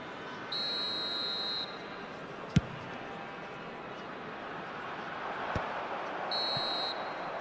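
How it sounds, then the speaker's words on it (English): In an eFootball match, a referee blows a two-part half-time whistle: a shrill, sustained blast, then a second shorter blast several seconds later, over steady stadium crowd noise. "And the half-time whistle goes."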